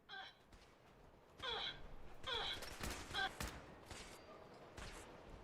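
Gunfire erupts from several directions during a Fallout 4 firefight, a fusillade of sharp cracks and bursts scattered unevenly, some close and loud, others farther off, with a voice speaking in between.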